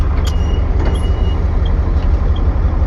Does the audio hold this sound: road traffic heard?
yes